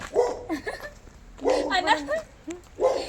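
A dog barks and yips in short bursts, three clustered outbursts a second or so apart, close by, with whiny tones mixed in.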